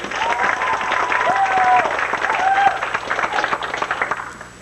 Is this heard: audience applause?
yes